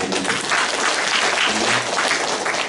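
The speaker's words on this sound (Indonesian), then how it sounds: "Berikan tepuk tangan." A church congregation applauds during a Good Friday sermon: a dense, continuous wash of many hands clapping, fairly loud and steady, with no speech over it.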